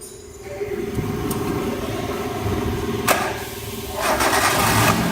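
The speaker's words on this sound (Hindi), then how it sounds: "पहले मैं आपको ये जो नॉइज़ हो रहा था वो एक बार स्टार्ट करके सुना देता हूँ। गाड़ी को स्टार्ट करो।" Hyundai i10 car engine with a noise fault and a slightly low battery, cranking and starting, then idling with a steady mid-pitched drone and a rising rev near the end, close by; a brief voice is heard faintly.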